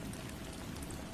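Rain falling steadily, a dense, even hiss of drops on surfaces with no gaps or other sounds.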